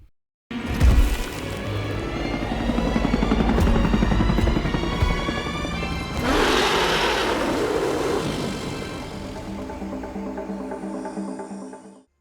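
A hovering drone in a Predator video game gives off a steady, loud whirring buzz that holds for about eleven seconds, with a brief shift midway, and then fades out. No one talks over it.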